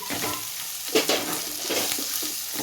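Spoon stirring chilli powder and turmeric through goat head meat curry in a pan, a soft steady scraping and mixing with faint sizzle, close and continuous with no talk.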